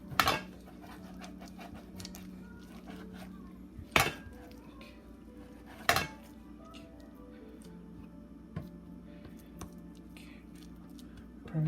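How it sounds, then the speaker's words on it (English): A kitchen knife slices raw beef against the grain on a cutting board, giving a few sharp knocks on the board between quieter strokes, close by over a low background hum. "We cut the beef."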